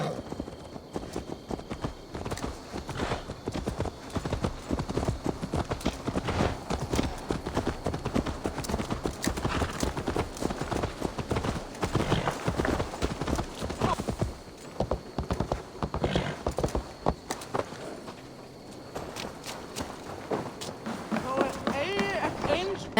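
Horse hooves clip-clop steadily at a running pace in Assassin's Creed Valhalla, close and prominent, with game voices speaking over the rhythmic hoofbeats.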